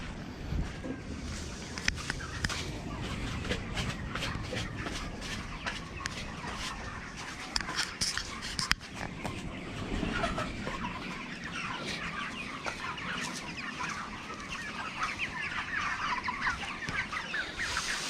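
Broiler chickens cluck steadily throughout on a poultry farm, a dense flock of overlapping calls and squawks close by with constant background farmyard noise.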